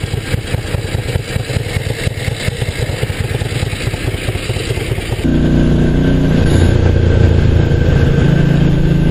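A cold 1974 Ducati 750 GT, a European-version motorcycle, idles with a rapid, uneven throbbing beat that shifts partway through into a smoother, steadier engine note, loud and close.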